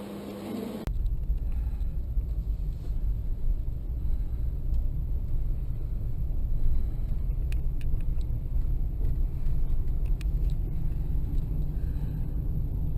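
A 2017 Jeep Wrangler Rubicon Hardrock rolls over bumpy ground, its steady low cabin rumble and road noise continuous throughout with faint rattles and knocks, no voices.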